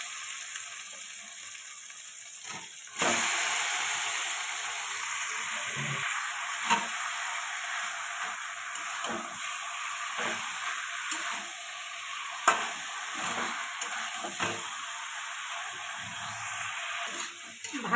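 Chicken pieces fry and sizzle steadily in spiced masala in a pan, with intermittent scraping and clinking of a spatula as it is stirred, close and continuous throughout.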